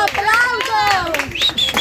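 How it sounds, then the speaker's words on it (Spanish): Guests at a quinceañera celebration clap for the birthday girl's arrival, the brief patter of hands mixed under excited voices and cheering at close range. "Un aplauso."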